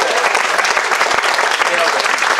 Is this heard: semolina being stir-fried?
no